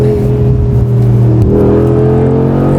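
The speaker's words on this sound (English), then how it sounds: "It's a proper AMG sound." A Mercedes-AMG G 63 engine revs loudly and steadily, its droning note climbing and shifting pitch midway as it accelerates, close and continuous.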